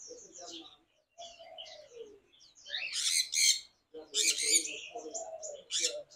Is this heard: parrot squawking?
yes